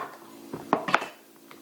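Knife cutting a bell pepper in half on a board, a couple of quick crisp crunches and a soft knock, brief and close with nothing else around it.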